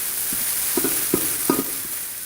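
Garlic-ginger paste being lightly browned in about three spoons of hot oil gives off a steady sizzle, with a few soft scrapes of stirring over it. No one speaks.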